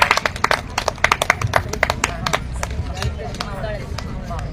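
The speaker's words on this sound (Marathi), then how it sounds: "जोरदार टाळ्या संभाजी शिंदे यांच्यासाठी" An audience at a poetry gathering claps for a poet, a dense burst of close, sharp hand claps that thins toward the end, with a voice speaking over it.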